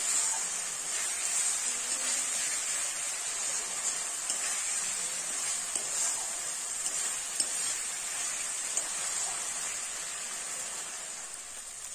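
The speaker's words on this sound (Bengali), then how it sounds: "দেখুন এবারে মশলাটাকে খুব ভালো করে কষিয়ে নেব।" Ground spice masala with chili and turmeric powder sizzles as it is fried in oil for a Bengali mati aloo and fish dish, a steady, close hiss and crackle that runs unbroken throughout with no talking.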